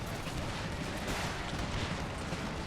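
Battle in Empire: Total War, with grenades and gunfire blending into a dense, continuous roar of distant musket volleys and explosions, steady and moderately loud throughout, no distinct single shots standing out.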